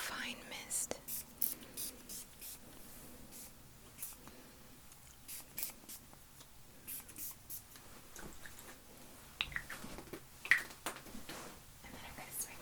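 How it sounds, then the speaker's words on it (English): A fine-mist spray bottle hisses in repeated short bursts moving around a listener, close and soft, between quiet whispering. "I'm just gonna go all around you with this spray. It's like such a fine mist."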